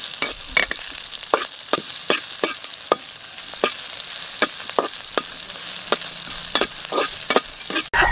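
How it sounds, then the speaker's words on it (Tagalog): Onions and chili sauté in a hot pan, a bright close sizzle punctuated by regular quick scrapes and taps of a spatula stirring throughout, with no talking. "Irina, ibutan ko ng sibuyas. Sunod ko nga igisa"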